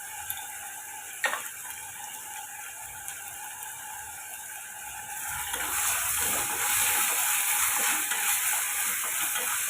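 Mint and coriander leaves sauté in a pan for a Tamil-style ghee rice, a soft crackle at first with a single sharp knock, then a louder, steady sizzle from midway on, with no talk.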